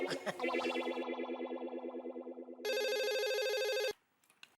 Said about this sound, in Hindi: एक मिनट, भिड़े अंकल को फोन करके आता हूँ।